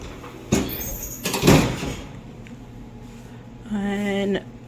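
A laboratory autoclave door is shut, with a couple of thumping clunks and a sliding scrape followed by a sustained tonal hum or beep near the end.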